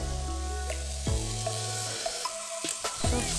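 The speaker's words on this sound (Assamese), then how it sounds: "শাকখিনি ভালদৰে মিহলাই ল'ম।" A spoon scrapes and stirs radish greens with fish in a hot pan, with a steady sizzle of frying underneath and several clear metallic strokes against the pan, close and without talk.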